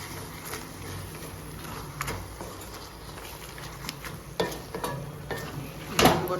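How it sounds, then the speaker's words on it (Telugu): Gongura mettalu curry cooking in a pan, a low steady sizzle with scattered scraping stirs and clinks, one louder clatter near the end, no voices. "వేసుకొని కాసేపు ఇలా ఫ్రై అయితే మన గోంగూర మెత్తల కర్రీ రెడీ అవుతుంది"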